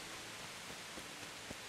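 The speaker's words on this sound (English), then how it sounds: "Raining, soaking wet." Rain falls in the medieval video game Kingdom Come: Deliverance, a soft, even hiss of steady rainfall with a few faint droplet ticks, quiet and continuous with no voices.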